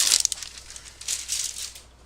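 Cough drops are pulled from their packet: two short bursts of crisp crinkling and rattling, one at the start and another about a second later, close and fairly quiet, with no talking.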